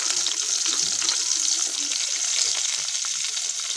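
Whole spices, garlic and onions sizzle steadily in a hot pan for a potato dish, a dense, even frying hiss with faint stirring scrapes underneath.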